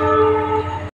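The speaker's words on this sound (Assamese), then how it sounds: "যদি আপোনালোকে ট্ৰেইনৰ আৱাজ শুনা পাই আছে" Train passing near Maligaon railway station in Assam, a loud, steady, close rumble with a sustained horn-like tone throughout before cutting off abruptly.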